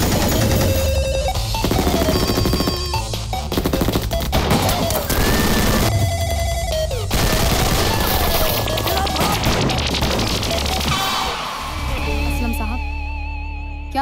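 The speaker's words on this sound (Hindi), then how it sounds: "इसलिए हम पे गोली चला रही है" Rapid bursts of gunfire crack through a loud, dense mix of crashes and music, sustained over the whole stretch with brief pauses, in a film scene.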